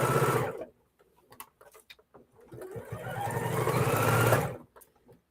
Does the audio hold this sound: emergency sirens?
no